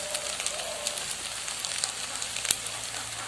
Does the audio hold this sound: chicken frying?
yes